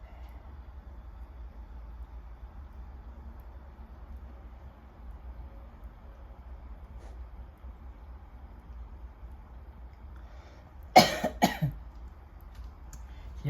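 A person coughs in a short, loud burst of several harsh coughs near the end, following a long stretch of low, steady background rumble.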